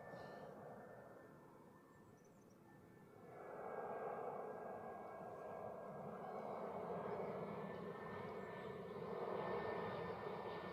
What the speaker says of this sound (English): here we move over for the Edelweiss landing from Pristina